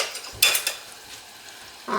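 Small spicy snack pieces bubble and crackle in hot oil, a steady soft sizzle with a few brighter bursts as pieces drop in and rise up, close by with no talking.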